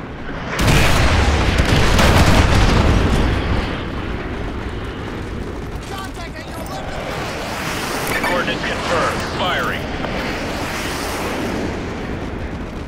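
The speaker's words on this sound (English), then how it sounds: "Fire mission received. Artillery inbound." Artillery strikes land in Call of Duty: Modern Warfare 2 Remastered, with a massive booming explosion followed by a long rumbling roar and scattered debris and crackling under continuous battle noise.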